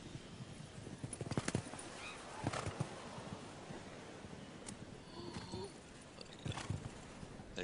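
Horse hooves at a show jumping event at Aachen, Germany, thud irregularly on the arena footing, soft and somewhat distant, with a few sharper knocks and faint background voices.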